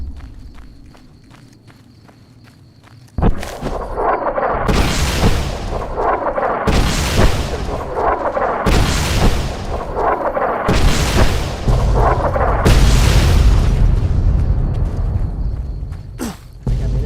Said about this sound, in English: So, these guys like to blow things up. They just shot an artillery.